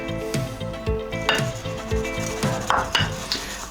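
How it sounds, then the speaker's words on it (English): A spoon stirs flour into Dutch pancake batter in a bowl, giving repeated scraping, knocking strokes against the sides at a steady, moderately close rhythm, with no talking. "Just mix it in until everything's combined."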